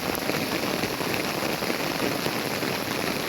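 Heavy rain pours down steadily on the fourth day of Navratri, a dense, even hiss of drops on surfaces with standing water around, with no voices.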